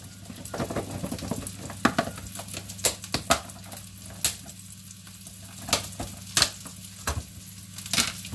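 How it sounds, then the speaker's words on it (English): Bacon sizzles and crackles in a hot pan, with scattered sharp pops and occasional clinks of a utensil over a constant frying hiss. "frying off our bacon."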